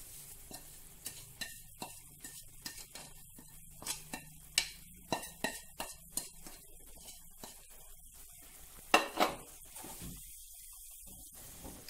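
Roasted semolina stirred into boiling water on a low flame for rava kesari, a series of close, irregular scraping strokes from the spoon over a faint bubbling simmer, with no voices.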